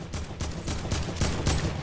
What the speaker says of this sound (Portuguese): os caras do outro lado tá atirando na gente